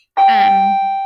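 A single electronic doorbell-style ding rings out loudly and sustains with a long, slowly fading tone, with no other sound around it.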